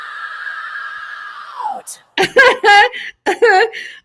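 A shrill, sustained scream holds for about a second and a half, then falls away, followed by voiced outbursts that sound like chuckling or excited vocalizing.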